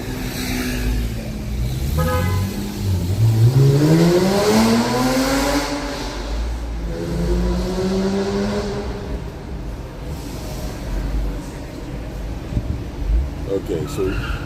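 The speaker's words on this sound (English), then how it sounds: "Oh, the car's gonna move now." A car pulling away and accelerating, its engine note rising in pitch, with people talking over it throughout.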